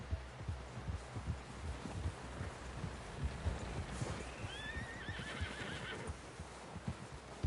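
Horse whinnying in the video game Red Dead Redemption 2, a rising neigh midway over a busy bed of hoofbeats and rustling, fairly faint and alone without clear speech.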